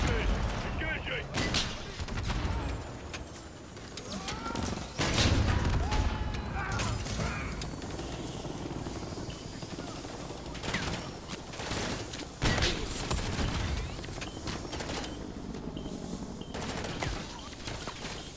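Sustained automatic gunfire aimed at a helicopter in Call of Duty Modern Warfare 3, dense bursts of machine-gun and rifle shots with heavy thuds, loud and continuous over a battle din with voices shouting.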